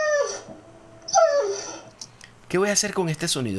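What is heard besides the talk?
dog whimpering, library sound effect played back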